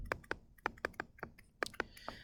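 Keys tapped on a calculator, about ten quick, light clicks in an irregular rhythm, close and fairly faint.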